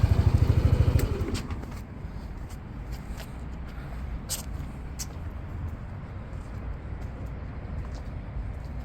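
A Yamaha NMAX 125 fuel-injected scooter engine idles steadily close by, with a brief rougher revving at the start settling into an even putter, plus a few light clicks.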